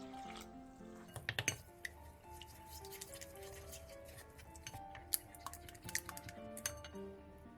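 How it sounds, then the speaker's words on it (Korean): Pancake batter of frying mix, egg, salt and water being mixed in a bowl, quiet clinks and taps of a utensil against the bowl with soft dripping sounds, no voices. "볼에 부침가루 크기 4스푼, 계란 1개, 소금 3분의 1티스푼, 물 1컵을 넣고 골고루 섞어주세요."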